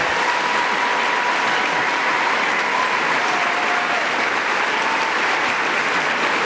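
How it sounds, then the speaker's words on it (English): A crowd of families in an audience applauds an industry panel at Disney, producing steady, dense, sustained clapping that stays loud and even throughout without any pause. "Families, let's give a big round of applause to our industry panel"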